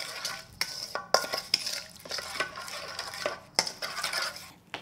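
A spoon stirs sugar into a beef jerky marinade in a bowl, with quiet swishing and several sharp clinks of metal against the dish in an irregular rhythm, close and alone.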